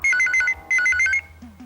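A phone rings with a repeated electronic trilling melody, two bursts close and clear, followed by a short rising tone.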